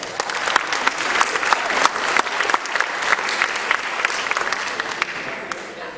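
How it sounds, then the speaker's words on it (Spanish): Audience at a university law lecture applauds guests, a steady, even wash of clapping from a sizeable crowd, fairly close and sustained throughout with no clear voices above it. "Un aplauso para ellos."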